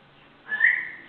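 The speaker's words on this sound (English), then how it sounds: "someone or something else whistles back" A single short whistle rises out of a quiet house setting about halfway through, a clear high tone held for roughly half a second and then fading.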